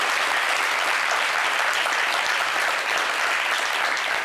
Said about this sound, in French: Applaudissez pour le Cameroun.